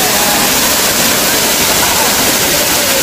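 A loud, constant roar of rushing, crashing water from the nearby Sikulikap waterfall near Berastagi, Indonesia fills the whole stretch, steady and unbroken.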